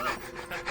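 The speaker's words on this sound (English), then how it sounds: "I hope that was just panting." A dog pants heavily in quick, rhythmic breathy huffs, close and fairly soft, with about four gusts in under a second.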